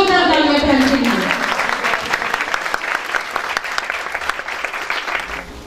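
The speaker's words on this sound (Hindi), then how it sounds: "जोरदार तालियां फैलाइए" A room of people clapping loudly at a church women's meeting in Faisal Town, Lahore, as a speaker's voice trails off; dense applause carries on, gradually thinning and softening toward the end.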